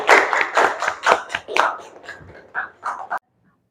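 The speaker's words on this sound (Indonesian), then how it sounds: "Beri tepuk tangan untuk kelompok 1 ya." Classroom applause for a presenting student group, a short burst of uneven clapping from a small audience that thins out and stops after about three seconds.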